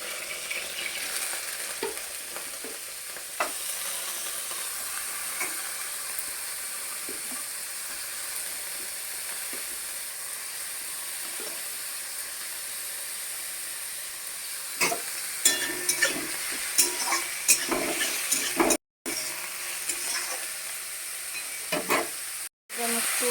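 Carrots fry in a pan with a continuous bright sizzle, while the spoon scrapes and clatters intermittently, getting busier toward the end.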